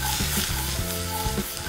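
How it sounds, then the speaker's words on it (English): Apple with the skin on and red onion sizzling in a pan while being stirred, a close, steady fry with a few soft scrapes. "throw into the pan some apple with the skin on and some red onion or shallot"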